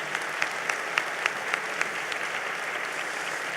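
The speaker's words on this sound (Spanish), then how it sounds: "Les pido un aplauso para él también." Audience applause at a public debate event on state capture and democracy, a steady wash of many hands clapping at moderate loudness throughout, with no talk over it.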